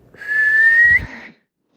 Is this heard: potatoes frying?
no